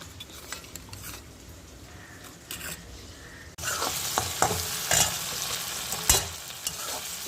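Chili, onion and tomato sizzle steadily in a hot pan, growing louder partway through, with repeated scraping and knocking of a spatula as they are stirred.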